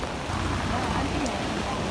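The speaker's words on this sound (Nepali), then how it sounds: "हिजोदेखि परेको पानी अहिलेसम्म रोकिएको छैन है" Heavy rain falls during a flood in Kathmandu, a steady dense hiss of downpour with faint murmuring voices beneath.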